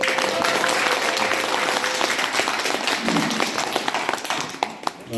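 Sustained crowd applause at a book-concert talk show in a music center, dense clapping that holds steady for several seconds and thins slightly toward the end.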